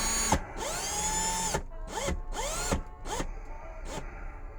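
Drill twisting wires for a fused Clapton coil, heard in several short whirring bursts that rise and fall in pitch, with brief gaps between them, close and moderately loud.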